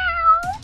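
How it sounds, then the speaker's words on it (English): A single close, clear cat meow, a drawn-out rising-falling call lasting under half a second, followed by a brief soft rustle. "Yeah, that's a kitty."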